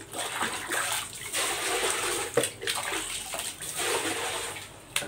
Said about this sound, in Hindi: और इसमें डाल देंगे साफ पानी।